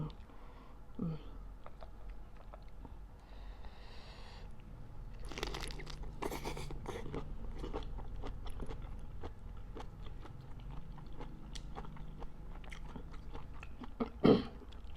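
Close, quiet crunching and biting of crunchy angel-wing jellyfish served with fresh shrimp and seafood dipping sauce, with bursts of crisp chewing in the middle and a low, steady room hum throughout.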